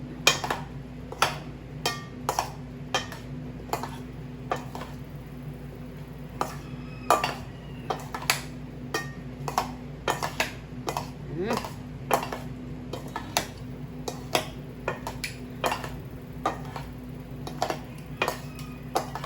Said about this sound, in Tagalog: Let's try to mix it.